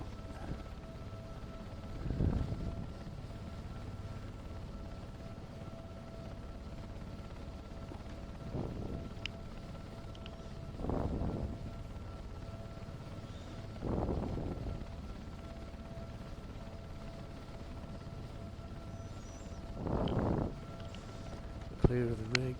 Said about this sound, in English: So I'm going to lift the aircraft into the hover.